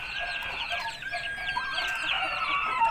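Aseel hen, a pure-bred fighting-breed female, clucking close by in a continuous stream of calls with other fowl sounds around, no one talking.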